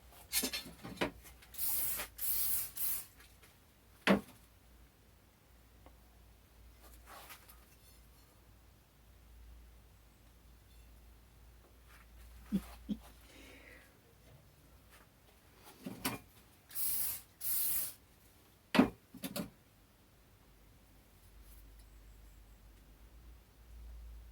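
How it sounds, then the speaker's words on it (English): WD-40 is sprayed onto a heat-treated steel camping blade in several short hissing bursts, separated by quiet gaps with faint handling and rubbing. "Looks even better with WD-40 on it."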